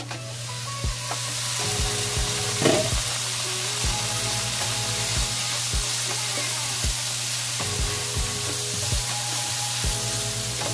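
Food frying in a pan while being stirred, a steady bright sizzle with regular clacking scrapes of the utensil against the pan every second or so, close and continuous with no talking.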